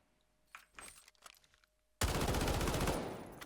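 Bursts of rapid automatic gunfire from a modified rifle in the shooter game Delta Force, a few short scattered shots and then a loud sustained volley near the end, with no talking.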